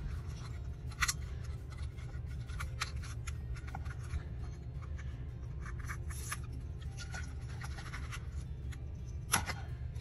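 Scissors cutting through large paper tags, one at a time, with short snipping scrapes and a sharper crisp cut near the start and end over a low steady background hum.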